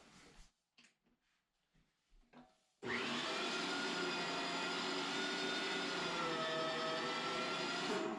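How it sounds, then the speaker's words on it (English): A meat grinder fitted with a 10mm plate grinding pork for homemade kielbasa: after a few quiet clunks, the motor starts abruptly into a loud, steady whirring drone that runs continuously to the end, with no talking. "We've switched out our grinding plate to a 10mm hose from our 6mm hole one, because we want a slightly thicker grind for this."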